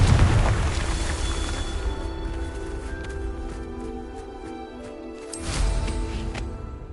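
A Confringo blasting spell detonates in Hogwarts Legacy, a loud rumbling boom at the start that decays into crackling debris, with a second burst of blast noise near the end over steady game ambience.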